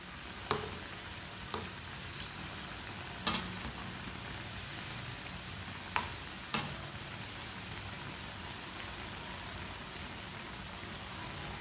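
A sandwich frying in a pan gives off a soft, steady sizzle, with a few sharp clicks and taps from the pan at irregular moments.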